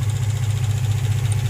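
A 2003 Infiniti G35 engine idling with a misfire, a steady low rumble with a slightly uneven pulsing beat, close and loud, with no talk.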